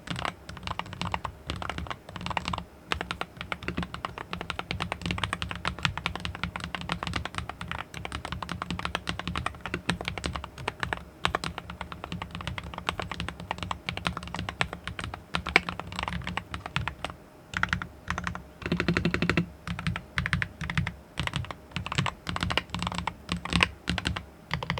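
Rapid typing on a GravaStar Mercury V60 mechanical keyboard with UFO switches, foam and a plastic case, crisp, close keystrokes clacking in continuous bursts with brief pauses and a heavier thock from the spacebar.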